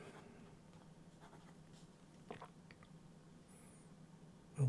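A fountain pen with a fine 0.6 mm iridium nib scratches faintly across paper in short strokes, quiet and close against a low background hum.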